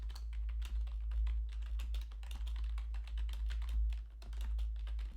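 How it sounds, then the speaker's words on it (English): Computer keyboard typing in quick irregular bursts of clicks, close and clear over a low steady hum, with no talking. "I hear you typing."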